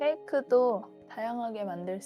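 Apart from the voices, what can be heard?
No distinct noise like a dog, phone or traffic.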